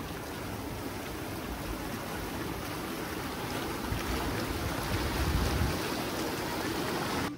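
Spring water pours continuously from the source of the Jhelum at Verinag in Kashmir, a steady broadband rush that holds evenly throughout and swells slightly toward the end.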